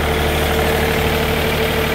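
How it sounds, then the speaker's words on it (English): A 35-horsepower engine powers a sawmill cutting cedar logs, idling steadily with a constant mid-low drone and vibration, close and loud with no talking. "It's an awesome engine. It's got tons of power."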